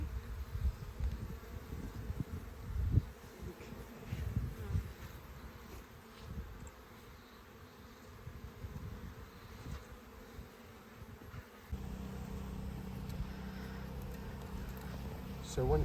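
Honey bees buzzing while new bees are installed in a hive, a faint, steady drone of many insects with brief louder passes near the microphone, softer through the middle and busier again at the end.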